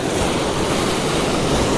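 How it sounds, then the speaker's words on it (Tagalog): Strong ocean waves at low tide roar in a dense, continuous wash of surf close by, loud and unbroken, with wind buffeting the microphone and no speech. "Yan, lalakas ng alon."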